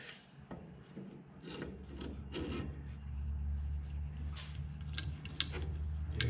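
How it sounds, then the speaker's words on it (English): Emery cloth rubbing a burr and ridge off a metal frame pin during a Polaris Ranger repair, a steady close-up rasping scrape in repeated strokes over low background hum. "It's got a bit of a ridge there and a burr, a little bit of emery on that"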